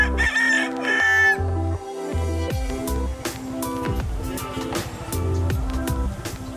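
A rooster crows repeatedly at a bird park among other fowl, loud, close and harsh, with clucking and bird calls around it and no talking.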